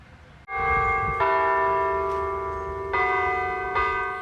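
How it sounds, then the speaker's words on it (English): A church bell at Our Lady of Grace Church in Gravesend rings out loud and clear, struck four times with long ringing overtones that linger between strikes. "As the bells ring out at Our Lady of Grace Church in Gravesend"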